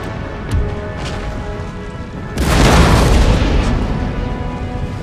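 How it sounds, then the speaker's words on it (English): A loud artillery barrage from Total War: Empire bursts in partway through, a dense rumbling roar of cannon fire that swells over the quieter battle ambience and stays heavy to the end. "Alright, artillery, fire!"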